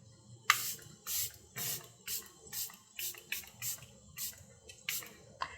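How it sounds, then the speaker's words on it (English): Charlotte Tilbury setting spray misted onto a makeup sponge, a rapid run of about ten short, close hissing spritzes in steady rhythm over a quiet room. "go on the other side and put one spray on my sponge"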